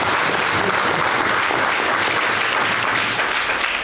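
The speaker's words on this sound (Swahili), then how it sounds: "Hivi makofi ni vidogo sana." Sustained applause from an audience at a SACCOS cooperative gathering, dense steady clapping that fills the whole stretch without any speech.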